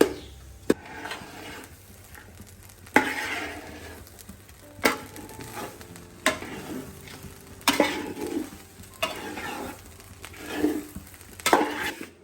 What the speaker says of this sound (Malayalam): തേങ്ങ ചുവന്ന് വരുന്നുണ്ട്, ഇളക്കി കൊടുക്കാം.